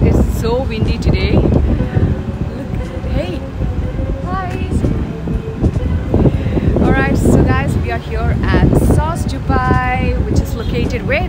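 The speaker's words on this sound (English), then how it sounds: "Oh god, it's so windy today." Gusty wind buffets the microphone in low rumbling bursts while people talk over it.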